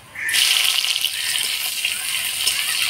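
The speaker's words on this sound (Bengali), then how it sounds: "ফোড়নের তেলে পেঁয়াজটা লাল লাল করে নিলাম" Chopped onions hit hot oil seasoned with dry red chilli and nigella seeds, bursting into a loud, close, steady sizzle that holds and settles slightly, with no talk.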